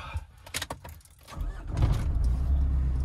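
A Mitsubishi Strada L200 pickup truck rumbles close by, with a few clicks and rattles early on before a steady low engine drone rises and holds as it starts to move.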